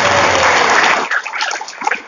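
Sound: audience applause at an Islamic lecture

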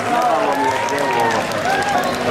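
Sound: audience applause at a concert

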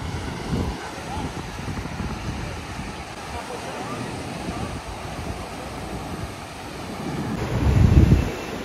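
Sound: waves and wind on Kuta beach, Bali

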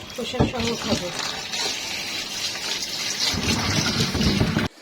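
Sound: washing hog plums under water

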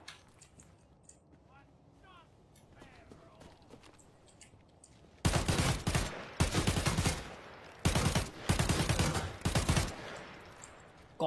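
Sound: gunfire shooting bots in Arena Breakout video game

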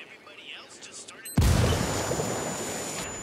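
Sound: explosion in the video game Ghost Recon Wildlands

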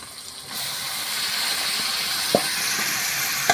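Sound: marinated chicken frying in spiced oil over wood fire

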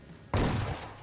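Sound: shotgun gunfire in a video game

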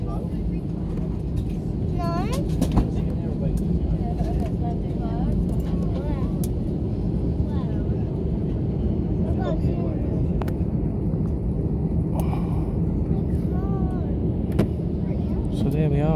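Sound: Ryanair airplane landing at Las Palmas airport, Gran Canaria

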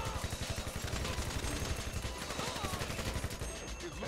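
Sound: gunfire in the video game GTA Online

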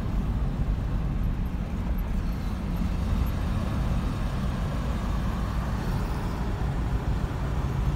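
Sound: city traffic noise on closed roads in Istanbul

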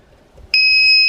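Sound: Green Cell Pro 300 voltage inverter low-battery alarm

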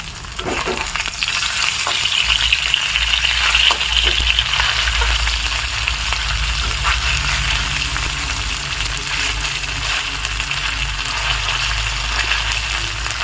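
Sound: turning and frying paneer pieces in a wok

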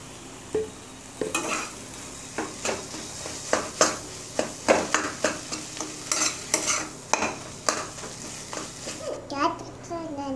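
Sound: stirring grated potato into masala in pan

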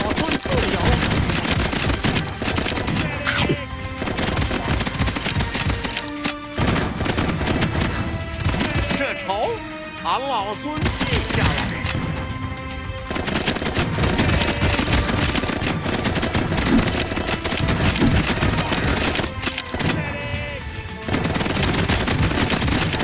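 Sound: automatic gunfire in video game Black Gunner Wukong

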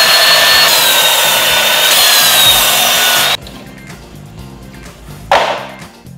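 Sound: cutting wood piece for compost bin base

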